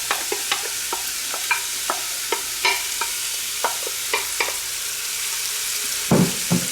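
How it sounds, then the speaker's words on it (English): Vegetables and garlic sauté in vegetable oil in a pan for red beans and rice, with soft steady sizzling and repeated sharp clicks of stirring, ending in a louder scrape. "we're just going to saute our veggies and garlic"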